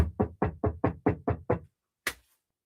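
Knocking on a door in a rapid run of eight loud, close raps, then a pause and one final harder knock, with no voices.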